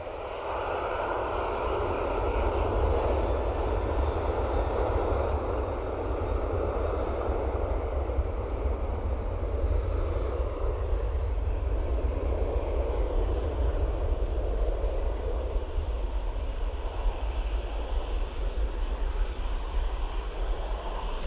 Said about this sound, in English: So, Ryanair off to Malaga, aka Malaga, South Spain.